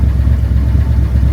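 A 496 Chevy big-block with a TH400 transmission and 4.11 gears runs at a steady idle, a deep continuous low rumble close by with no variation and no talk.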